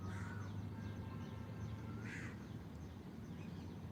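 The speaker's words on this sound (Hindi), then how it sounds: "सब लोग प्रयास करेंगे कुछ देर पक्षियों की मधुर ध्वनि सुनने का" Birds calling outdoors during a morning yoga session, a couple of short squawks and distant calls over steady low background rumble.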